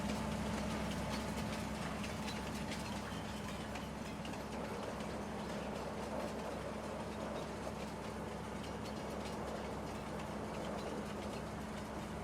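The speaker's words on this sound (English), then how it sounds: "So this is where we picked up that train. Holy cow, we just, like I said, these trains fly." Train in Farming Simulator 19 on the Pleasant Valley map racing along the rails, a steady low rumble and rolling track noise with a constant hum, moderately loud and unbroken for the whole stretch.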